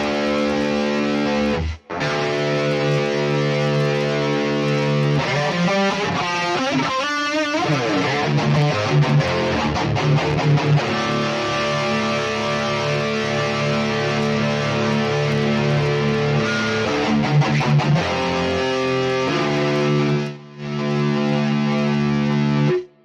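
Electric guitar through a Neural DSP Mesa Boogie Mark IIC+ amp sim with pleasant tube distortion and spread, playing loud sustained distorted chords and a faster riffing passage, with two brief dropouts, no talking.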